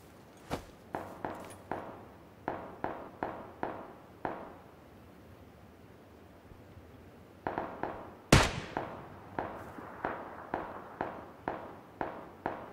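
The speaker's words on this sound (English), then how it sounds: "Shot him in the helmet." Gunshots from PUBG ring out in a steady string of sharp single cracks at a regular pace. The shots stop after a pause and then resume, with one louder crack standing out in the second run.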